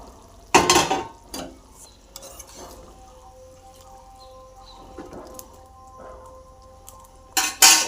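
Fish pieces go into a cooking pot of simmering curry with added water, a loud clatter at the start and again at the end, with softer utensil clinks and faint bubbling in between, close up and without speech.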